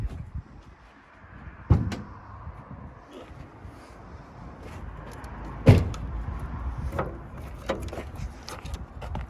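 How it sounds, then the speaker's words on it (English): Bonnet release being popped on a Mercedes W123 240 Diesel estate, two sharp mechanical clunks a few seconds apart amid lighter clicks and rattles in a quiet workshop, with a brief voice at one point. "We'll start by popping the bonnet, obviously."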